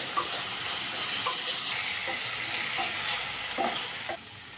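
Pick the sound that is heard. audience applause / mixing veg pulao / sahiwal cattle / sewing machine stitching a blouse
mixing veg pulao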